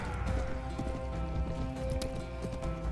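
Horse hooves pound at a gallop in the Mount & Blade Game of Thrones mod, a steady loud clip-clop with the sound of battle around it.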